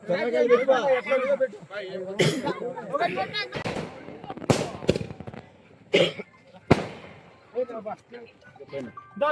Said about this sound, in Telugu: టపాకాయలు పెట్టే టపాకాయలు